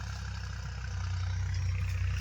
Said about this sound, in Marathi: गहू पेरायला ट्रॅक्टर चालू झालेलं आहे